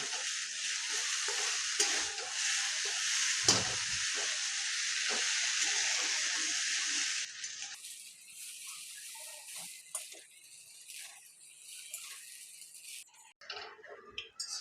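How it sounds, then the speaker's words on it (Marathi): Maggi noodles frying in oil and tossed with a fork, a loud steady sizzle that cuts off partway through, followed by quieter scattered scrapes and clinks. "आता ही मस्त अशी फ्राय करून घ्यायची"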